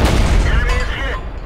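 Heavy boom of a tank destroyer's cannon firing in World of Tanks, from an 8.8 cm Pak 43 JagdTiger, a dense loud blast with rumbling decay over the whole moment, a voice talking over it.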